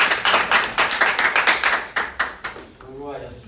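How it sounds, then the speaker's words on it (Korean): Church congregation at a pastors' prayer meeting claps in praise, a run of loud, rhythmic, fairly close hand claps that slows and breaks off, followed by someone speaking. "우리 하나님께 영광 박수 올려드리겠습니다."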